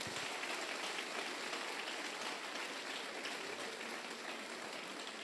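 A church congregation claps together in a faint, distant, steady wash of applause that holds without a break, and no voices rise above it.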